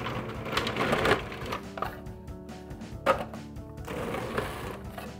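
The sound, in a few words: food processor slicing mushrooms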